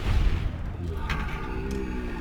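A heavy, booming gunshot from a hunting rifle in the Fallout New Vegas game opens with a low thump, then fades into quieter distant rumbling while someone talks.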